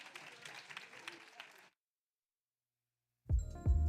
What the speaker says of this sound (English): Clap it up one more time, y'all.